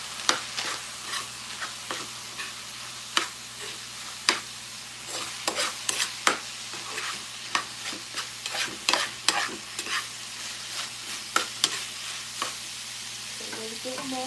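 Pasta cooking water poured into a hot pan, giving a steady sizzle with repeated sharp stirring and utensil scrapes throughout.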